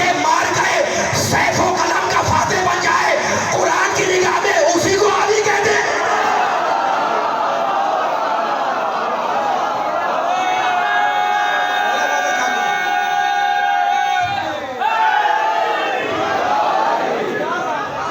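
A large crowd at a Chehlum majlis for Imam Hussain chants religious slogans in unison, loud and dense voices rising and swelling together, with a single sustained shout carrying over the crowd partway through.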